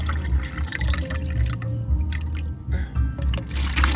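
Water poured and measured into a cup for a homemade fertilizer mix of spoiled rice and energy drink, a steady liquid trickle with drips over a low background hum.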